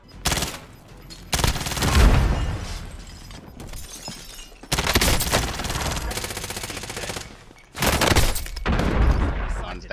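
Bursts of rapid automatic gunfire from Call of Duty: Warzone, loud and sustained in several long volleys with brief gaps between them.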